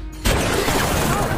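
In a sniper action film, a loud gunshot bursts out after a brief quiet moment, followed by a dense, rumbling blast that fills the short moment.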